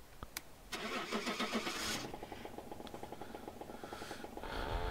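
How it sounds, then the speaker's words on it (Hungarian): A car engine in a GTA multiplayer game (SeeMTA) cranks and catches after a few sharp clicks, then settles into a steady, rhythmic idle that continues to the end without talk. "fordítsd a gyújtás kapcsolót és indítsd a motort"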